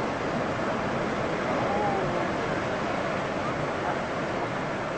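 Waves surging after glacier calving make a steady, loud, rushing roar with wind buffeting the microphone, unbroken for the whole stretch.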